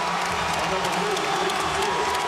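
Basketball arena crowd cheering during a Spurs versus Dallas playoff game in San Antonio, a steady loud roar with whoops and scattered claps under a commentator's voice.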